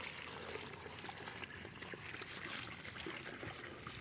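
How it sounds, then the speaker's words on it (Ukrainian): Water poured from a container onto the soil around a newly planted young peach tree, a steady, close splashing rush that continues evenly throughout with no speech. "Заливаємо водичкою. Вона впитується в землю"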